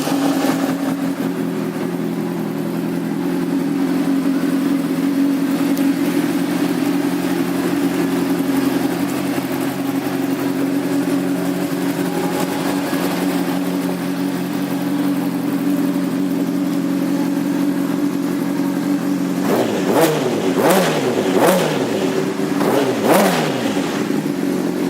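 A 2006 Honda CBR600RR sport bike engine idles steadily for about twenty seconds, close and loud, then is revved sharply several times in quick succession.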